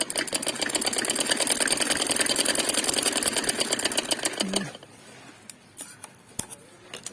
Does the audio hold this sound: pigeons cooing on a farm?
no